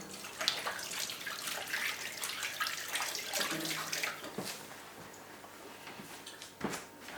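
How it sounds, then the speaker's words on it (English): Tap water runs into a kitchen sink while hands are washed under it, a soft continuous splashing with small irregular spatters and clinks, fairly quiet and close. "Now just wash my hands."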